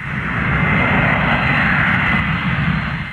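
Airplane engine at an airport, a steady loud roar with no breaks, heard close and alone for a few seconds in a comedy scene.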